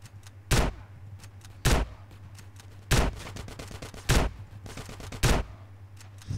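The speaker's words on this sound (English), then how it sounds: "This is a nice shotgun." Shotgun blasts in GTA San Andreas: five loud, sharp shots spaced roughly a second apart over a low steady hum, with no talk.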